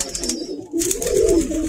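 Loft pigeons cooing in a steady low burble that grows fuller after a short lull, close and moderately loud, with a faint high tone over the top.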